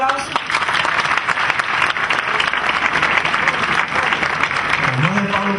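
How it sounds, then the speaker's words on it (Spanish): An audience at a Spanish-language lecture on Cuba applauds after a music video is shown, a dense, steady wash of clapping filling the room, with a voice beginning to speak as it ends. "Bueno, vamos a darle un aplauso."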